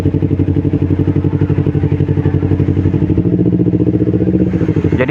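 A Kawasaki Ninja 250 FI motorcycle engine runs steadily at low revs close by in traffic, a throbbing rhythmic idle-like pulse with a slight rise in pitch near the end.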